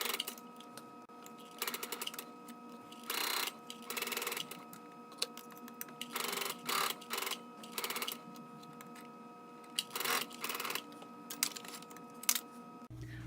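A sewing machine runs a half-inch raglan shoulder seam at a long stitch length, buzzing in repeated short bursts of a second or so with pauses between, moderately close and alone.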